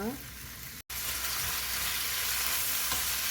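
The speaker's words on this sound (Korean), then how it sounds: "감자를 중불에서 볶아 줄 겁니다" Julienned potato and carrot strips stir-fry in cooking oil over medium heat in a pan, a steady close sizzle that cuts out for a split second then resumes unbroken.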